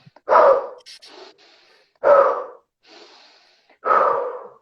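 Three loud, forceful breaths through the nose and mouth, each a sharp rush of air followed by a softer return, repeat about every two seconds in a fast guided breathing exercise during a meditation session, with no talking.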